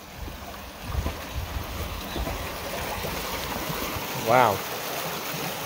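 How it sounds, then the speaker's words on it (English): Stream water rushing beside a frozen lakeside, a steady broadband wash heard close with wind buffeting the microphone and a brief exclaimed voice near the end. "I hear quite a lot of rushing water."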